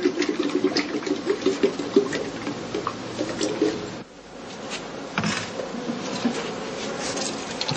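Honey bees drone around heather skeps at an apiary during autumn feeding, a dense steady buzz with passing wingbeat swells, loud and close, easing briefly before resuming.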